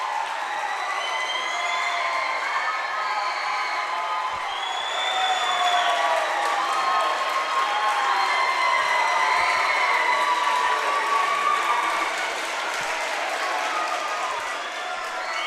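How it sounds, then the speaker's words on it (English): Volleyball fans from Southeastern and Illini West cheer, clap and shout loudly in a gym after the Southeastern game-winning point, a dense, steady crowd roar that holds for the whole stretch. "both cheering loudly as we just witnessed"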